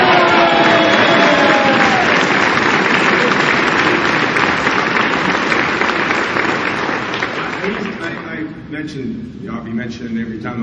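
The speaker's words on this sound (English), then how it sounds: "How about a great round of applause for Tommy Thompson?" A crowd at a John Kasich town hall rally in La Crosse, Wisconsin applauds Tommy Thompson, with loud, sustained clapping that slowly fades while a voice speaks over the end.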